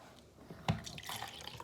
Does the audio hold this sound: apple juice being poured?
yes